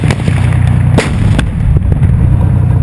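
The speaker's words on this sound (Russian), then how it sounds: "Камера записала звуки стрельбы из автоматов и пулеметов." Rapid bursts of automatic rifle and machine gun fire crack repeatedly over a low rumbling background during street fighting in Jobar, Syria, some shots sharp and close, others more distant.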